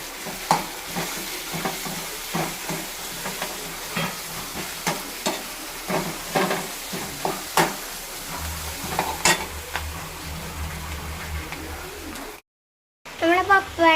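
Onions sizzle and fry in a pan with repeated scraping and stirring clicks, fairly quiet throughout, briefly cutting to silence near the end.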